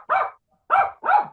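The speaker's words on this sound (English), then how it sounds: "this dog is really driving me nuts." A dog barks three times at close range, two quick loud barks following a single opening bark after a short pause, with no talking.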